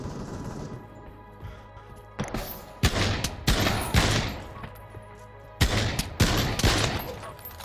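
Pavlov VR gunfire on the Nuketown map: sharp, loud shots come in clustered bursts and single cracks over a steady game background hum, with no talk.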